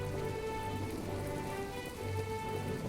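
Rain in the farming video game My Time at Portia: a steady, even patter of drops on surfaces, a soft continuous wash with a faint tonal game ambience underneath and no voices.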